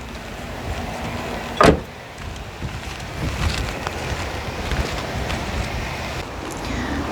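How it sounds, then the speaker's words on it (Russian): Power windows on a Japanese-import car whirring in operation amid light wind noise, with one sharp, loud thump early on followed by quieter, steady motor and air sounds. "полный электростеклопакет"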